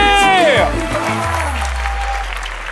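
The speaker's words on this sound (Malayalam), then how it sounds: "കൈയടി." Studio audience applause on a travel game show, a steady roar of clapping under a loud voice and a sliding musical sound effect at the start.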